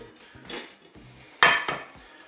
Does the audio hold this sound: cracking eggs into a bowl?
yes